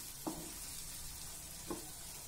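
Masala sautéing in a pan while drumstick pods are being cooked: a steady soft sizzle throughout, broken by two brief scraping stirs, quiet and close with no voices.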